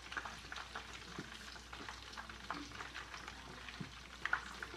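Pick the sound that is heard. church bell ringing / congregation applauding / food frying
food frying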